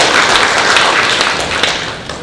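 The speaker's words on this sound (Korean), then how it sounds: "큰 박수로 맞이해 주시기 바랍니다." An audience at a Hanyang University business graduate school admissions session applauds to welcome the dean, a loud, dense burst of clapping that tapers slightly toward the end.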